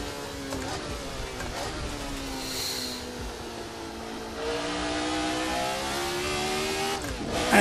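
Formula RSS 1970 V8 race car in Assetto Corsa, its engine note sliding down through a downshift and then climbing and holding as it powers out of a turn, loud and close.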